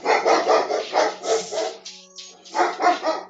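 Dogs barking in a rapid, excited series of sharp yips and barks, close and loud, with a brief whiny pause before another burst.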